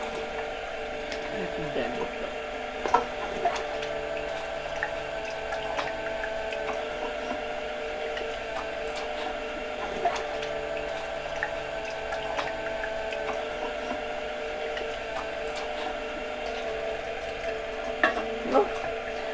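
A Sana 929 stainless steel slow auger juicer runs sped up while expelling fibre, giving a steady, close mechanical whir and hum with occasional small clicks and knocks throughout.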